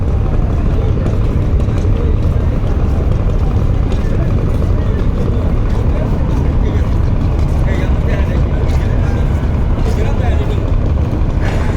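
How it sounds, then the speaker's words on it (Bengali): Passenger launches speeding up at the Barisal launch ghat at night, a loud, constant heavy engine rumble and water churn, with a voice talking over it throughout. "দুটি লঞ্চের এই মুহূর্তে টান টান উত্তেজনার মধ্যে দিয়ে তারপরে গতি বাড়িয়ে দিল"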